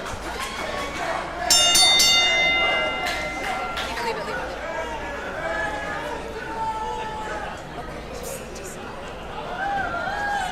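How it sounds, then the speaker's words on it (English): A wrestling ring bell rings several times to start the main event at a CCW wrestling show in Miami, Florida, the bright strikes cutting through loud crowd chatter and noise. "The bell has sounded."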